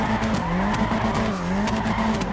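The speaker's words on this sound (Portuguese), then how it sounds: "Carrinho desliza legal, hein?" A Chevette in the GTA video game slides through a drift, its tires squealing and skidding in repeated wavering bursts over a loud, continuous engine note.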